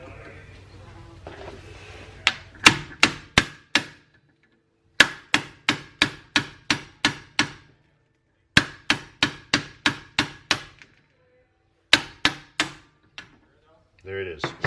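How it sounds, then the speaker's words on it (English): An impact screwdriver being struck with a hammer to free a rusted rear brake rotor screw on a 2016 Honda CR-V, with loud, sharp metallic blows in several quick bursts of evenly spaced hits separated by pauses. "I'll record myself using the impact screwdriver here"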